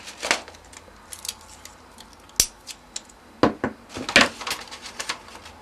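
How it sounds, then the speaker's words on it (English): Tape is pulled and pressed onto foam puppet body pieces. Sharp crackly rips and taps come in irregular bursts, close and fairly loud, with no voices. "I'm going to quickly tape them"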